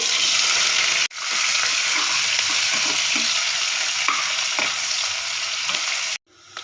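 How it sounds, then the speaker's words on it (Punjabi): Cumin seeds and onion hit hot oil for an aloo methi sabzi, giving a loud, close, continuous sizzle that breaks off briefly twice, with no talking. "ਇਧਰ ਸਾਡਾ ਆਇਲ ਗਰਮ ਹੋ ਚੁੱਕਾ ਤਾਂ ਸਭ ਤੋਂ ਪਹਿਲਾਂ ਆਪਾਂ ਪਾਵਾਂਗੇ ਜੀਰਾ ਸੋ ਨਾਲ ਹੀ ਪਾ ਦਾਂਗੇ ਆਪਾਂ ਇਹਦੇ ਵਿੱਚ ਪਿਆਜ਼"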